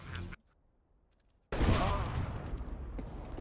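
Gunfire in Counter-Strike: Global Offensive, with a short burst at the start, a second and a half of near silence, then a loud sustained volley of shots that trails off.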